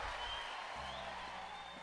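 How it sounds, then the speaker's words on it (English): Distant, faint applause from a crowd of spectators in the visual novel Chaos;Head, a steady wash of clapping with a low tone sustained underneath. "The spectators clapped and cheered,"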